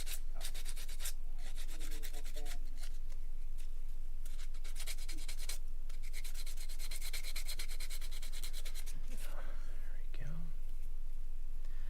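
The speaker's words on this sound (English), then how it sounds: "the discs, of course, for the Dremel can come in a variety of different grits as well" Dremel rotary tool fitted with a grit sanding disc, working on a small figure customization, gives a steady close hiss and rasp in repeated bursts, with a voice talking quietly underneath.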